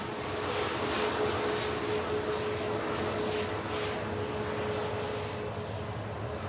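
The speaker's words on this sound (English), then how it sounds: "Turkish is lined up for departure back to Istanbul now." Turkish airliner on departure from Manchester Airport bound for Istanbul, a steady broad jet roar heard from a distance, holding level throughout with a faint thin whine over the rumble and no voices.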